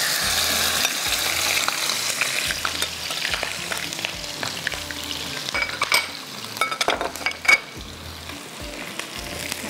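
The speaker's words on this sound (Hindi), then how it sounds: "बस इसको आपने हाई फ्लेम पे फ्राई करना है इस तरह से" Chicken fries on a high flame in a pan for Chicken Mongolian, sizzling loudly and close. A spatula scrapes and knocks against the pan in steady stirring strokes, with a few sharper clanks near the end.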